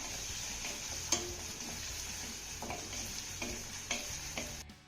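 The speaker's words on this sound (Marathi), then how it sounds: "आता हा घातलेला कांदा आपल्याला सोनेरी रंगावरती परतून घ्यायचा आहे" Finely chopped onion sautéed in a pan until golden, with a soft continuous sizzle and periodic spoon taps and scrapes against the pan at an irregular pace.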